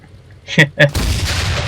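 A Panther tank's cannon fires on enemy tanks in the Normandy battles of the game Enlisted: two sharp, close pops in quick succession, then a loud, sustained roaring blast that fills the rest of the moment.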